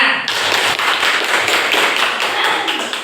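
Junior high school students clapping together in a classroom after a correct answer, a brisk burst of many close hands that starts abruptly and continues evenly for a few seconds.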